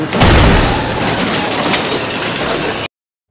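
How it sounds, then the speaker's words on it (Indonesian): A film car crash in which a truck smashes into a car, with loud glass shattering and crunching metal debris filling the whole clip at close range before stopping abruptly. "Sementara mobilnya Sandy hancur ketabrak truk"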